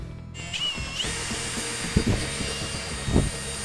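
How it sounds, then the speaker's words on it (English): Power drill mixing micro-cement, a continuous high whine that starts up and runs steadily, with occasional knocks of the paddle against the bucket. "And now you're gonna take your drill."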